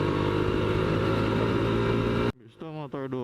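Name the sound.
Kawasaki Ninja 150 RR two-stroke motorcycle engine riding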